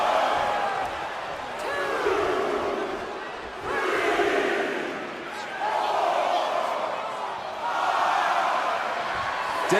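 Crowd noise from the WWE 2K25 wrestling video game swells and dips in repeated waves of cheering during an intergender match, loud and continuous.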